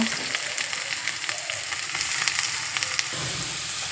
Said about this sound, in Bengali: এবার আমি বিটটা ভেজে নেব।